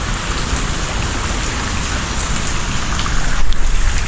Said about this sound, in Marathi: पाऊस कंटिन्यू आहे हा तरणा नक्षत्राला खूप हा पाऊस लागतो आहे कोकणात